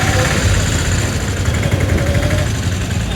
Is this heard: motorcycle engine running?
yes